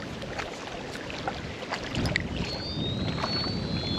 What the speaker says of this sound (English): listen to that line sing in the wind